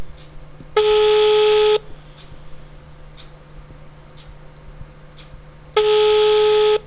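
Two long, loud telephone signal tones sound about five seconds apart as an unanswered call rings out, each a steady buzzing beep lasting about a second, with faint low hum in between.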